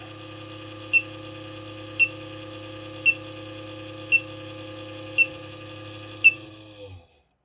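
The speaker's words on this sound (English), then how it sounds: "It's just got a bad fan bearing, so it sounds pretty bad." A computer power supply with a bad fan bearing, tested on a 486 motherboard, gives a steady whining hum with a sharp click about once a second, six in a row, before it cuts off abruptly.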